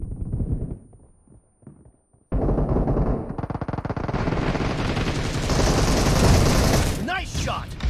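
Automatic gunfire in the mobile game PUBG Mobile erupts after a quiet start with faint voices, then builds into loud, sustained rapid bursts with booming shots.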